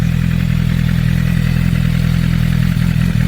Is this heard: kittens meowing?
no